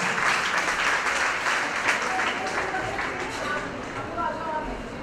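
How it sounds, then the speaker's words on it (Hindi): Audience applause at an award show for a film festival, a dense steady wash of clapping that holds for several seconds, fairly loud and continuous with no clear talk over it. "इन दोनों के लिए बस तालियां हो जाए।"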